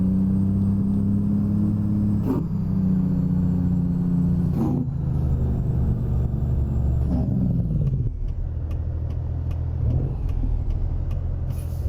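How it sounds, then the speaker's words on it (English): Heavy truck with a Cummins N14 engine and 18-speed transmission in American Truck Simulator, a steady low diesel drone with pitch shifting through gear changes and brief air hisses, loud and continuous. "Underneath the hood today, we do have a Cummins N14 and an 18-speed transmission."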